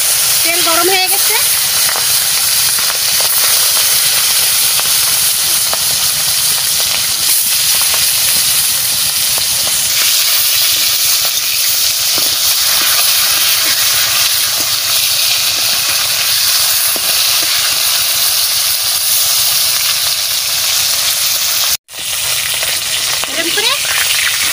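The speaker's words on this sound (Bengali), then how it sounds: "মাছ ভাজা বসাই দিচ্ছি। তেল গরম হয়ে গেছে" Fish seasoned with turmeric fries in hot refined white oil, a loud, steady, close-up sizzle and hiss that runs almost without a break, with one brief cut near the end.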